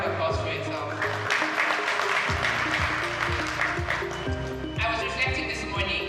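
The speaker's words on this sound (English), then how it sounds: "A round of applause for yourself." An audience claps in a room, a dense close burst of applause that runs throughout, with a voice speaking over it.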